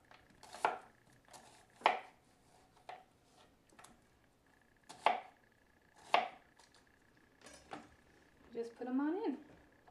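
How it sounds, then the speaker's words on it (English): A knife chopping a small white onion into strips for a slow-cooker pot roast, with sharp, separate cuts spaced about a second apart and a clatter at the end, quiet and close. "I'm using a small, just basic white onion. Peeling it away. And again, just cutting it into strips."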